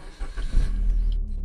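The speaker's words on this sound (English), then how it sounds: "Let me start the car." A Maruti Swift car engine starting, a quick starter crank followed by the engine catching and settling into a steady idle rumble, close and fairly loud.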